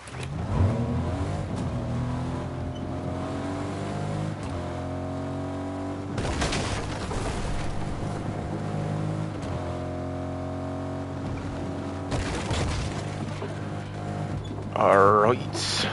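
G-Wagon driving in the Fortnite video game, a steady engine drone that shifts pitch with acceleration, with brief louder bursts and a person talking over it.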